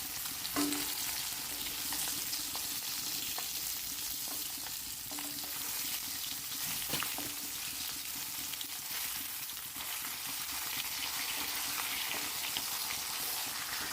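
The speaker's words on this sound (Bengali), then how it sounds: "ওইদিকে মাছটা অল্প ভাজা হয়ে যাক" Fish frying in a pan for a Bengali mustard fish dish gives off a steady, fairly quiet sizzle and crackle that runs unbroken throughout, with no one talking.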